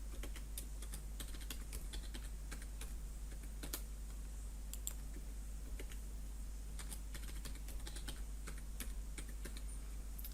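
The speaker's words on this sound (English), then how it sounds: "I'm going to type in my password" A password is typed on a computer keyboard in a steady stream of light, close keystrokes with occasional sharper taps over a constant low hum, going on for several seconds with no speech.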